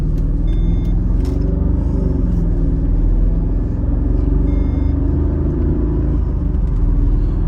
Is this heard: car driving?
yes